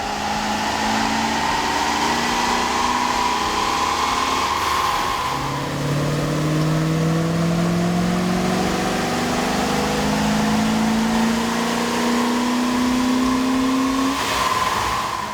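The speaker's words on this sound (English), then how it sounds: "we ran the vehicle on the dyno to test the sound comparison versus the stock intake" A 1994-2002 Dodge Ram with a Cummins 5.9L engine and K&N air intake runs on a dyno, giving a loud, steady drone with rising and falling pitch as revs sweep up and down, alone without talk.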